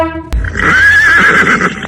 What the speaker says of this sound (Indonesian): Aku menemukan kuda ini